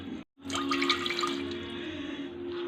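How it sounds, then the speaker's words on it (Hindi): Water is poured into a pressure cooker to cook raw mangoes for aam panna, a mango drink. After a brief pause it becomes a steady, close splashing stream. "हम एक कुकर लेंगे जिसमें हम थोड़ा पानी डालेंगे"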